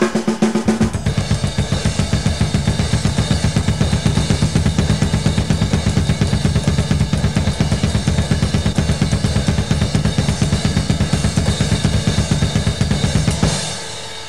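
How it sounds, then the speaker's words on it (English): A fast, relentless drum solo features continuous cymbal wash over a rapid double bass drum pattern, loud and close, running steadily for about thirteen seconds before cutting off. "playing the cymbals with the bass drum playing, or the double bass drum playing."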